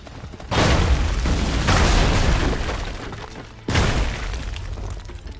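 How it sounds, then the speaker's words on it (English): Gunshot in Assassin's Creed III, a loud booming blast with a rumbling tail, followed by a second heavy boom a few seconds later, both close and dominant. "He shoots the gun."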